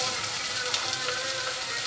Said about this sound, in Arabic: انا هنزل دلوقتي بقى باللحمه